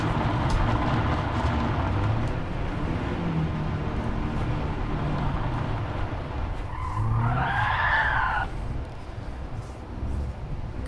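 Tires screech as a car slides sideways in a sim racing game, a rising squeal swelling over a steady engine roar about two-thirds of the way through, with no voices.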